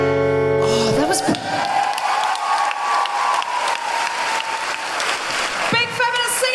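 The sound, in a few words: audience applause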